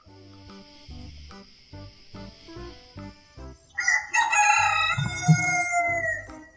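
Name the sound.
rooster crowing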